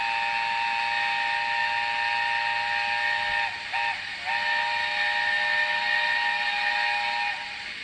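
Steady whistle from a Hornby TT:120 model steam locomotive, a long sustained multi-tone note over background steam hiss, briefly dipping twice midway before resuming and fading near the end.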